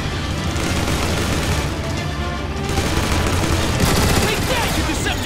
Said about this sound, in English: Decepticon seekers! I think you can take them out with the gun emplacements!